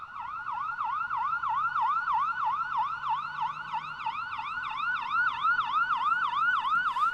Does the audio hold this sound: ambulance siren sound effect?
yes